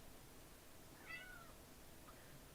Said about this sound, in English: And there's my cat.